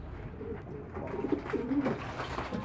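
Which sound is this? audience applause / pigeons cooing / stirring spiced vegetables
pigeons cooing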